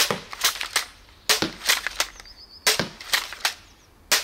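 A prototype bolt caster toy gun fires in quick snapping bursts, several sharp clicks and clacks in clusters of three or four with short gaps between, loud and close with no talking.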